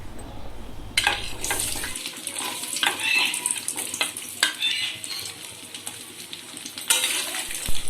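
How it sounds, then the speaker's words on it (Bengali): Coconut pieces fry in a pan for dal, a soft crackling sizzle that swells with a few stirring scrapes, fairly quiet and close, after a brief low hum at the start. "এখন নারকেলগুলো ভেজে নেব"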